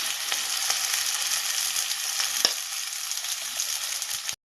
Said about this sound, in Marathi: आता मिरची परतली का याच्यात तांदूळ टाकून घ्यायचे